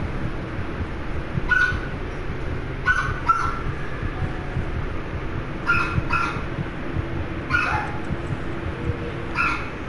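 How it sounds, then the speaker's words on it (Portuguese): Dogs barking in the horror game Among The Sleep, several sharp barks in short bursts at irregular intervals over a steady low ambient drone, moderately close. "pra que vocês vão ficar latindo?"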